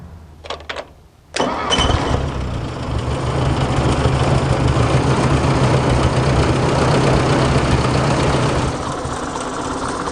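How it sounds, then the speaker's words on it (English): A few faint clicks, then an old Ford 600 tractor engine starts and settles into a steady, close, chugging idle that continues loud and even to the end. "Obviously the tractor is running like it's supposed to."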